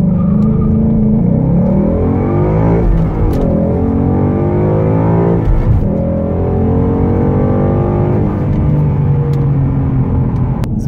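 A 2017 Ford Mustang GT accelerating hard, its V8 engine rising through the revs in loud, smooth sweeps with a brief dip at each gear change, heard close from inside without any talk.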